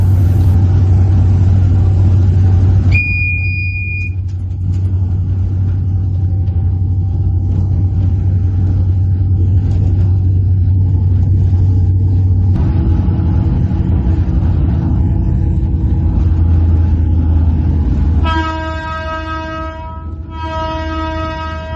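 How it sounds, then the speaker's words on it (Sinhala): Intercity express train on the line past Anuradhapura toward Medawachchiya, heard from the driver's cab: a loud, steady low rumble of the running train throughout, with a brief high tone early on and a sustained horn-like blast near the end. "මං කියවන්නේ නගරාන්තර ශීඝ්‍රාමී දුම්රියක් මේක."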